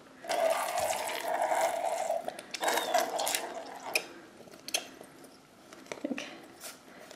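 Slime of glue and borax solution stirred in a container, a wet, churning swish that runs steadily at first and then breaks into sticky squelches and occasional clicks.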